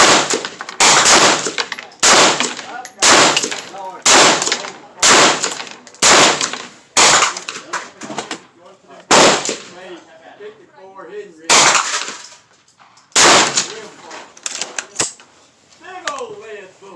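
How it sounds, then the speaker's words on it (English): A rapid volley of rifle fire, 5.56 and 300 Blackout, cracks out in loud, closely spaced shots at a 50-yard range, in bursts with short gaps, with people talking between shots. "We're going to do a quick little fast volley down there."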